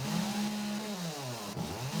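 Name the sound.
chainsaw running in the video game 7 Days to Die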